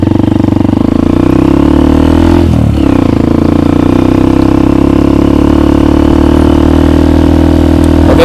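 A motorcycle rides over uneven, rough asphalt, its engine a loud, close, steady drone with a brief dip in pitch partway through, joined by clattering from the bumpy road.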